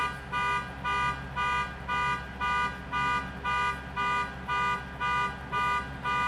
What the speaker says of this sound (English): Somebody's car alarm.